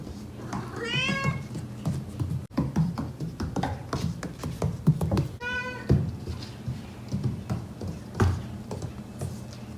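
A cat born with a movement condition meows twice in rising, drawn-out calls, surrounded by soft tapping and shuffling sounds of paws or hands nearby.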